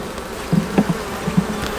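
Honey bees buzzing near an opened hive during a brood box inspection, a steady close insect drone with a few louder passes as individual bees fly by, no talking.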